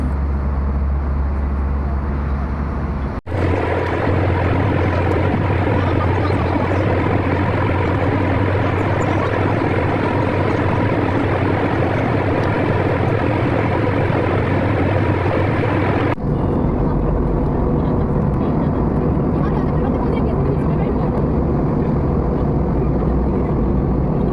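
An airliner cabin on a long flight to Dubai carries a loud, continuous engine drone as the plane descends. The hum shifts abruptly in level twice but stays steady, with no voices.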